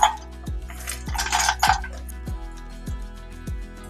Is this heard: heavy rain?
no